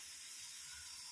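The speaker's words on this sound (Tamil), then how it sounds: "இப்போ அது இந்த ஆவி வர்றது தெரியுதா?" Steam escapes from a pressure cooker steaming Kerala puttu, a continuous bright hiss that holds steady and fairly loud throughout without any voices.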